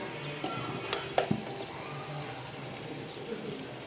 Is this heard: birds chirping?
no